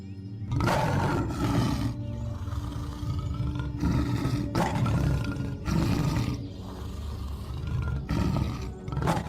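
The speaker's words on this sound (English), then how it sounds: "When the thunderous roar of the lion is heard" A lion in the wild roars in a series of deep, rumbling bursts, loud and close, each long call followed by short breathy grunts.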